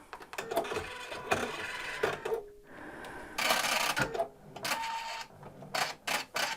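An embroidery machine stitching a small butterfly design in silk thread, a fast mechanical chatter in bursts broken by short pauses and quieter stretches, close by.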